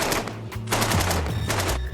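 Gunfire from a weapon in combat comes as several loud bursts of rapid automatic shots separated by brief pauses, close and harsh.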